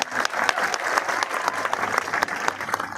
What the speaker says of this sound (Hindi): मेरे बच्चों के लिए तालियों की गड़गड़ाहट।